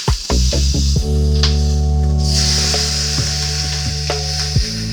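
Jerk salmon fillets sprayed with oil sizzle loudly in a hot pan, a close continuous hiss with a few sharp pops and clinks of utensils, no voices over it.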